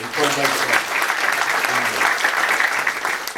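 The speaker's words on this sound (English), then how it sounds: "we can clap for Kobe anyway" A school board meeting audience claps for students being recognized for their accomplishments, a steady, fairly loud round of applause with voices murmuring underneath.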